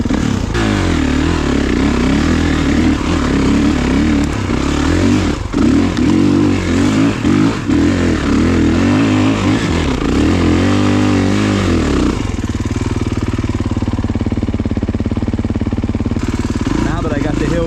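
A Kawasaki KX450 dirt bike engine climbs a wet hill in second gear, roaring loud and close with rising and falling revs before it settles into a steadier drone. Speech is likely mixed in with the engine.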